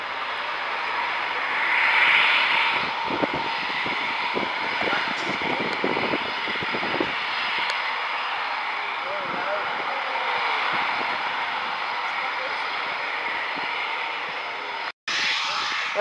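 A military jet roars at the RAF Coningsby airfield while taking off or landing. The sustained, fairly distant engine rumble swells and fades, and people talk nearby.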